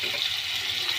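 Potatoes frying in oil in a pan beside aubergines, a close, steady sizzling hiss with no break across the short moment.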